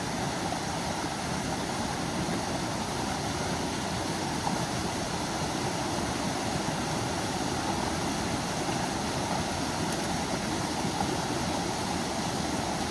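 Steady rushing water of a stream crossing in the White Mountains fills the whole stretch, a constant broadband roar of water flowing close by, with no voices.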